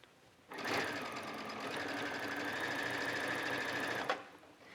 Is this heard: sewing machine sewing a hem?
yes